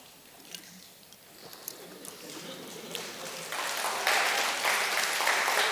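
An audience at a game development talk on genetic algorithms claps. Scattered claps start quietly, then swell into loud, dense applause that keeps building to the end.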